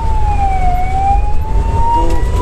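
Ambulance siren sounding continuously from inside an ICU ambulance transporting a critical patient, a steady wailing tone over loud low road and engine rumble, with no talk.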